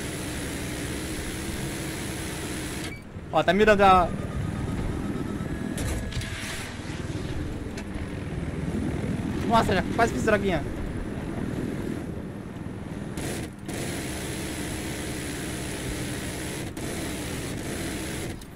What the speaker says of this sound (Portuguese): é muito legal jogar com esse avião, com esse helicóptero aqui